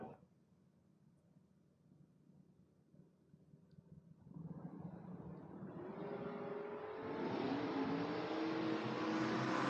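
At a drag race, a Ford Granada and a Chevrolet Malibu launch from quiet into a rising, roaring engine rush that swells loud and sustained as the cars accelerate down the strip.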